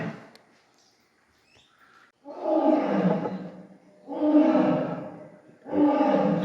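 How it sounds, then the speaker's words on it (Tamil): A male lion roars at Pilikula Biological Park Zoo in Mangalore, three long, deep, rasping bellows at a steady rhythm, heard clearly at moderate distance with no talk over them. "ஆண் சிங்க சத்தம் நினைக்கிறேன் அது."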